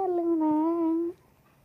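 A young puppy gives a single drawn-out, high whimpering whine lasting about a second before falling quiet, close to the listener.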